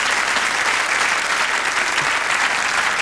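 A studio audience at a Dutch television talk show claps in a loud, continuous wash of applause that stays even throughout, with no talking over it.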